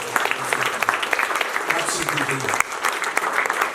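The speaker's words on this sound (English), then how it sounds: "I think we should give a round of applause for the teachers and the staff." Warm applause from the audience for the teachers and staff at a charity fundraising event, dense clapping that runs throughout with voices and cheers mixed in.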